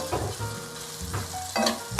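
Fresh coriander roots frying in oil in a pan for chicken rice, a loud close sizzle in uneven bursts with stirring scrapes, alone without talk.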